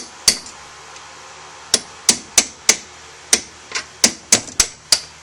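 A punch is hammered against a motorcycle wheel axle pin on a 2005 Suzuki M50 Boulevard, giving about a dozen sharp metallic strikes at an uneven pace, close and loud, with no talking.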